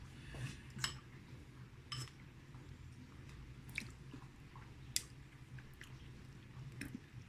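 Quiet close chewing while tasting a salted party dip or snack at home, soft irregular mouth sounds with a few faint clicks of a spoon or dish, no talking.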